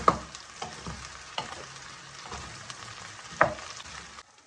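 Masala okra frying in a pan, a soft continuous sizzle with occasional stirring scrapes and taps, close and fairly quiet.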